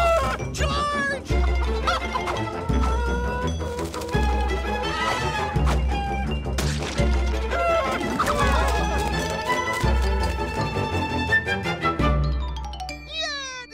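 A clucking cartoon chicken squawks in short repeated bursts over busy orchestral music and crashing sound effects, with character voices mixed in.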